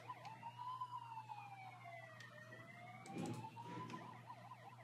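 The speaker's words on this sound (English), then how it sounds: "Also the siren here." A wailing siren sweeps up and down in pitch over a steady low hum, with a brief rumble partway through.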